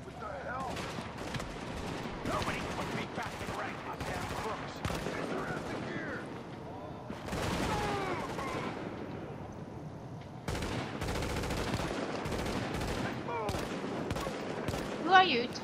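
Gunfire in the video game Tom Clancy's The Division on Xbox, rapid bursts of automatic shots in clusters with brief gaps, fairly faint, with players talking over it.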